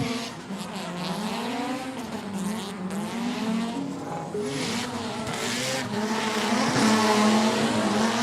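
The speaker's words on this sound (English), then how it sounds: "listen to that rotary engine roar" A rotary-engine race car roars at high revs on a track, shifting pitch as it accelerates, with tires squealing and a steady, loud mechanical drone throughout.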